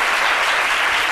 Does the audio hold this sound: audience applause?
yes